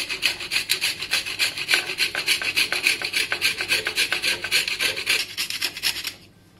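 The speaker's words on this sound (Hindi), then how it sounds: "अब हम यहाँ जायफल को ग्राइंड कर रहे हैं" Whole nutmeg is rubbed against a grater for a dry fruits powder, making a steady run of quick, rhythmic rasping strokes, close and distinct, before stopping abruptly.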